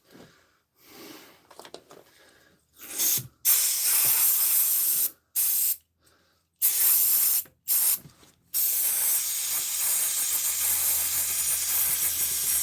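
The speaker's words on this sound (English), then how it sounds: "This is magic spray, in case you're wondering." Several sharp bursts of aerosol spray hiss loudly in short blasts, then one long continuous spray, with faint handling noises at the start.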